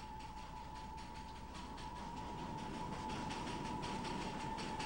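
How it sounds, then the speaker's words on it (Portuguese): A train runs on the Batasia Loop, the spiral where the track circles over itself, giving a steady rolling rumble with a sustained wheel squeal or whine throughout, moderately loud and continuous without speech. "o trem aproxima-se do anel de Batazia"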